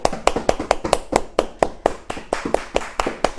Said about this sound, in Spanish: Vamos a dar un aplauso a nuestro Señor